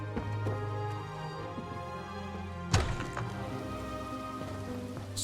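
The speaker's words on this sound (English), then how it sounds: "It's still raining, but it's a little bit lighter than before." Steady game rain falls in Elder Scrolls Online as a soft, constant patter under sustained musical tones, broken by one dull thump midway.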